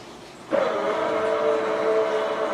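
A quiet hum gives way to a steady motor whine with a sustained tone from a lowering Rollease Acmeda motorized roller shade, one shade running slower than the other, running evenly as the mechanism moves.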